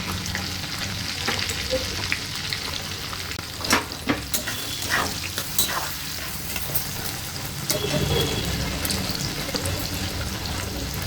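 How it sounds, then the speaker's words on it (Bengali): Onions sizzle and crackle steadily in a hot pan with green chillies, with occasional stirring scrapes and a faint watery hiss throughout. "কেটে রাখা পেঁয়াজগুলো দিয়ে দেবো"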